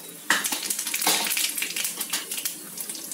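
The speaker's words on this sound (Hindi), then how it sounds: "अब हमारा तेल गर्म हो चुका है इसमें मैं कड़ी पत्ते डाल रही हूँ" Curry leaves drop into hot oil and crackle into a loud, bright sizzle that starts abruptly and then spatters on in bursts, close up with faint utensil clinks and no talking.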